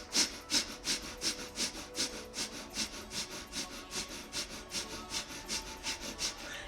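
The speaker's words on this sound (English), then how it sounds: "So now that I'm closer, I'll give you that breath of fire rhythm if you're new to it." Forceful, even breath of fire breathing: rapid rhythmic inhalations and exhalations, roughly three per second, airy and close, continuing steadily without talk.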